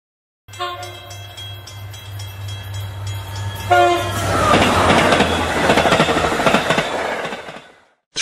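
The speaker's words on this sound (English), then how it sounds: "Train." A train horn sounds with sustained tones, then the heavy rumble and clatter of a passing train takes over before fading out.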